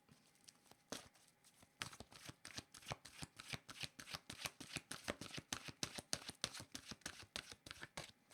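Oracle cards being shuffled by hand in a long rapid riffle, a dense run of crisp snapping flutters close to the mic after a few slower opening shuffles, with no voice.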